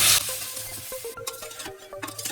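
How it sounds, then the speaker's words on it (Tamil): Mutton pieces sauté with onion and tomato in a pan for pulao, giving a soft sizzle broken by clinks and scrapes of a spatula over a short stretch. "வதங்கிட்டு இருக்க வெங்காய தக்காளியில் இந்த மட்டன் பீஸ் ஆட் பண்ணிடுறேன்."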